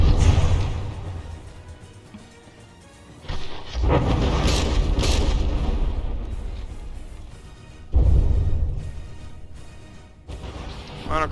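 Heavy naval gunfire in From the Depths, shells slamming into battleships with deep booming impacts and crashes in two loud surges, fading into a low rumbling lull between them.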